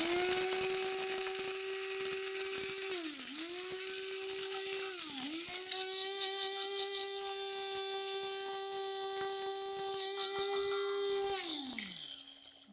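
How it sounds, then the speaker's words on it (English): An electric spice grinder whirs through toasted fennel seed, a steady high motor whine that dips briefly twice as the load shifts, then winds down at the end; no talking. "So we're going to go into the spice grinder with the toasted fennel."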